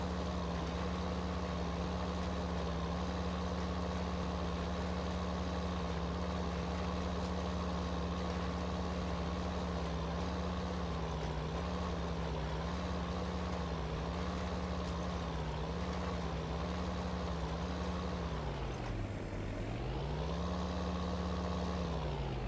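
A tractor engine idles in a farming simulator game, a steady low drone held throughout with slight dips in pitch near the end, no talking.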